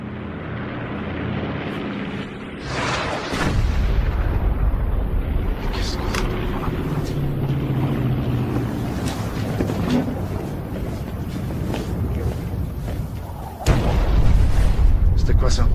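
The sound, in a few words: bomb explosions in a film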